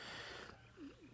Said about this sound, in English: If you can hear purring or meowing, that is Lacey the cat.